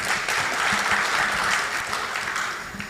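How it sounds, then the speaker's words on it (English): A summit audience at the Kenya National Food Systems Summit breaks into sustained applause, a dense, steady wash of many hands clapping that tapers slightly toward the end. "Clap for yourselves"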